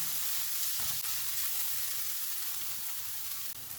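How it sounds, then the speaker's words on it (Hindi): Ginger-garlic paste and green chillies fry on a low-to-medium flame, making a continuous, even sizzle that holds steady and close with no voices. "1 टीस्पून अदरक और लहसुन का पेस्ट, 2 सब्ज़ मिर्चें। इनको 2 से 3 मिनट तक भूनेंगे।"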